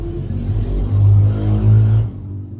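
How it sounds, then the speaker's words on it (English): A motorbike passes close by outdoors, its engine note swelling into a loud throaty rumble and then dropping away abruptly as it moves off. "let the motorbike go by."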